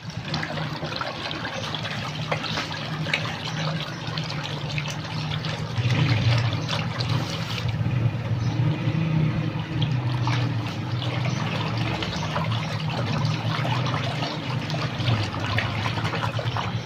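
Cold water sloshes and trickles steadily in a container after ice is added, a continuous close liquid wash with no talking.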